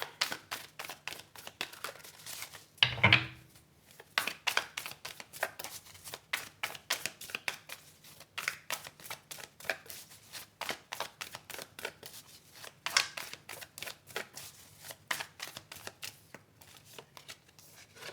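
Tarot cards are handled and shuffled up close in a rapid, continuous flutter of riffles and snaps, with a louder burst near the start and no talking.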